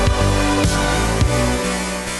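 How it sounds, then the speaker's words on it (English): Monophonic buzzy FM bass synth patch built in Propellerhead Reason for a remake of a song, playing loud sustained low notes with a few sharp re-triggered attacks, alone without talk. "Next up is the buzzy bass,"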